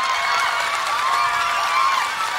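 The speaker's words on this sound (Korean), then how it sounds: "박수!" A live studio audience at a televised singing contest gives loud, continuous, dense applause and cheering that fills the whole moment.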